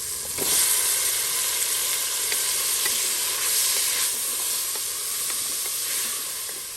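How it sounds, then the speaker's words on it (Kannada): Potato going into a sizzling pan while cooking masala pulao in a pressure cooker, a steady loud frying hiss with soft stirring scrapes and small crackles throughout. "ನಾನಿಲ್ಲಿ ನೋಡಿ 1 ಆಲೂಗಡ್ಡೆಯನ್ನ ಹಾಕ್ತಾ ಇದ್ದೀನಿ."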